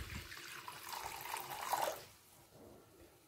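Water pours into a wok for boiling tomatoes, a soft splashing trickle that builds briefly and then tapers off into quiet; faint and close.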